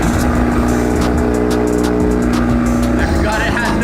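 A Veilside-bodied Mazda RX-7 runs with no exhaust fitted, giving a loud, steady, raw engine roar that fills the whole stretch, with voices and some background music underneath.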